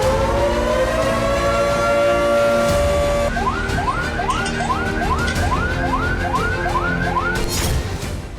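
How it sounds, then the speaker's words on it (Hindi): A civil-defense air raid siren in Ukraine wails steadily during a Russian missile attack, then breaks into a repeating rising whoop pattern, about nine cycles, loud and continuous throughout. "यूक्रेन के अलग अलग प्रांतों में खतरे का सायरन बजता रहा"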